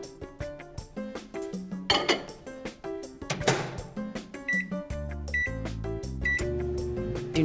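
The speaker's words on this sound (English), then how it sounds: "Okay, 20 seconds in the microwave." Microwave oven heating a bowl of chocolate: a series of clicks and rattles from the door and dial, then sharp beeps, followed by a steady low hum as it runs, close by with no talk.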